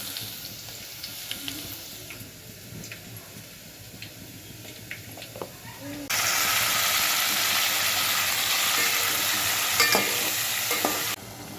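Tadka tempering in a pan being stirred while cooking chicken curry, a loud steady sizzle bursting in midway and holding for several seconds, with clinks of the stirring spoon and quieter kitchen sounds before and after.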